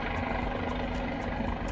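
A Guimbal Cabri helicopter engine in Microsoft Flight Simulator produces a continuous, even rotor and engine drone with a rhythmic blade chop, steady and close, no voices.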